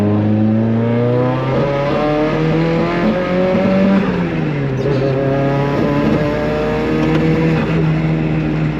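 A Nissan Silvia S13 with a 1.8 engine drives and revs hard, its loud, steady engine note rising and falling through gear changes from inside the car for the whole stretch, with no talking.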